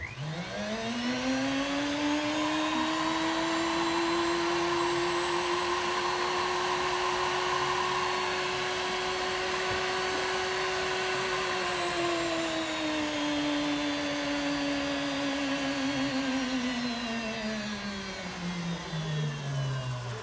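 A jewellery polishing machine runs as a steady high whine for about twenty seconds, pitch dipping slightly as work is pressed to the wheel, then winding down near the end; no talk.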